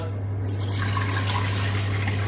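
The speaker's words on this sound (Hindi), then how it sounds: "तकरीबन आधा जग मैंने पानी ले लिया इसका।" Water pours from a jug into a cooking pot for boiling rice, a steady splashing, gurgling stream heard close up over a low constant hum.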